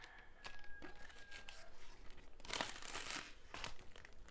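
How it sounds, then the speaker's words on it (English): Protective plastic film is peeled and torn off a multifunction computer monitor memo board side panel, a bright crinkling rip building to a loud burst midway, then trailing crackles up close. "I'm gonna take out this part right here so we can tear off our plastic"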